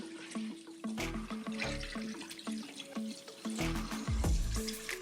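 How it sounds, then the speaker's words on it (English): Dark, hay-scented liquid for an old Pennsylvania pretzel recipe runs through a cloth strainer, pouring and trickling into a vessel nearby, with a few clinks and splashy bursts, no speech. "I'm going to strain it through some cloth here before we boil this"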